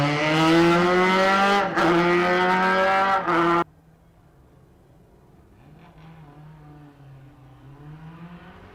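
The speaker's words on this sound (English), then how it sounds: "So here is the Datsun 1200 underway of Leyburn." A Datsun 1200 race car accelerates hard at a historic sprint event, its engine loud and rising through a gear change. It cuts off abruptly, leaving a faint, distant engine drone afterward.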